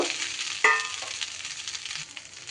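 Fried pointed gourd tumbles into a hot spiced pan with a sharp onset, then a steady close sizzle of frying oil fades gradually, with light stirring noises.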